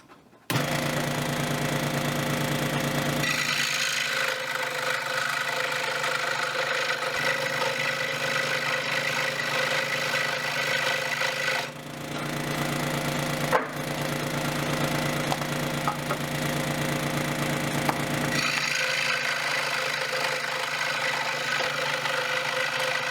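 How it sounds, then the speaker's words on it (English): A jigsaw cuts an angled support piece in wood. It runs for most of the stretch as a steady, loud buzzing whine. There are short breaks near the start and middle, and the saw starts up again near the end. "Here I'll be using my jigsaw to cut an angle for the support."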